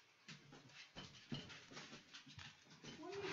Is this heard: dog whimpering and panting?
yes